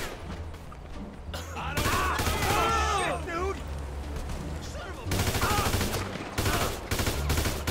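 AK rifle fire during the Cayo Perico heist in GTA V comes in rapid automatic bursts, with crashes and impacts mixed in, while a player talks excitedly over the action.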